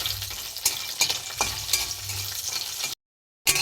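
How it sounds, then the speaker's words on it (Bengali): Bori (lentil dumplings) frying in a pan, with a crackling sizzle and intermittent stirring clatters. The sound breaks off briefly into silence near the end, then resumes. "সবজি সেদ্ধ নামিয়ে নিয়ে কয়েকটা বড়ি ভেজে নেব।"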